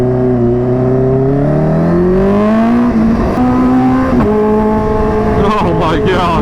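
A Kawasaki Ninja H2R, a record-holding supercharged motorcycle, revs hard up through its gears close by, the engine pitch climbing steadily and dropping sharply at each abrupt shift, loud and continuous.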